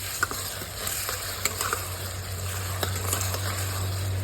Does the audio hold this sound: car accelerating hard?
no